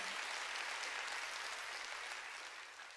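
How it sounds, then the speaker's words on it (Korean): A church congregation at a sermon claps together in a dense, steady wash of applause that holds strong and then begins to fade slightly toward the end, with no voices over it. "박수로 하나님께 영광을 드려야 돼"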